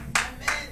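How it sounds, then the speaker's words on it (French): Two sharp, close hand claps a third of a second apart during a church worship service, brief and crisp with no voices over them. "Acclamons plus fort au nom puissant de Jésus"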